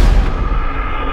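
A heavy blast opens a burst of explosion noise in GTA, a loud low boom decaying into rumbling debris over about a second, with no talk.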